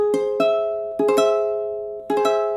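Augmented chords on a keyboard, three separate chords each struck note by note in quick succession, then left to ring and fade.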